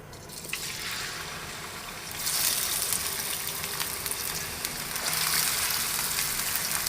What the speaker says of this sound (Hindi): ये ऑयल गर्म हो चुका है। इसमें पहले एक डाल के देखेंगे प्याज। अब इसमें आधी प्याज